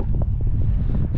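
Cold wind blows steadily across an outdoor microphone in Canada, a constant low rumbling buffet with gusty swells, no voices.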